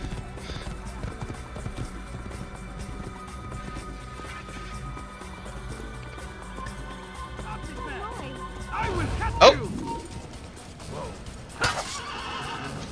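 A horse whinnies loudly partway through in Assassin's Creed over a busy game soundscape of music and effects, with a voice talking throughout.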